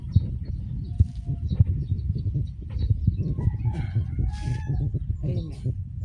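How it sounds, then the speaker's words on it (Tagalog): Bird calls, with chickens and a rooster crowing among them, in a garden on a green rooftop. Mid-distance calls rise over a steady low rumble, and someone speaks briefly. "Oh, ang ganda ng bird."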